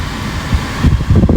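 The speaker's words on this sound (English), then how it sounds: "It's too damn windy outside." Low, rumbling wind buffets the microphone outdoors, with gusts swelling louder toward the end.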